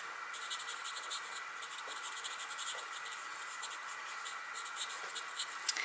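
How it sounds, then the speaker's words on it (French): Marker strokes on paper while coloring a Stampin' Up! card, a light tone going over two colors to blend them: steady soft scratching and rubbing at close range, continuous and alone. "je repasse le ton clair pour bien mélanger les deux couleurs"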